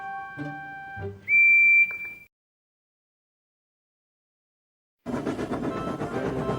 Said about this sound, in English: all the engines whistled, including James